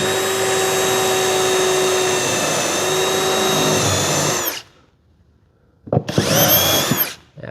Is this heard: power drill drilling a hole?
yes